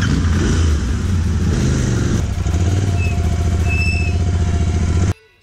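Royal Enfield Interceptor 650 twin-cylinder motorcycle engine revving loud and close, a steady throbbing exhaust note that holds, dips, then builds again before cutting off abruptly.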